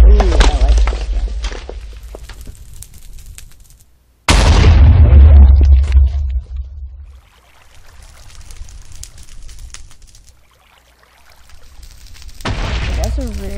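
A propelled anti-material rocket in Minecraft FTB detonates with a sudden loud boom partway through, followed by a rumbling decay, with a person talking before and after the blast.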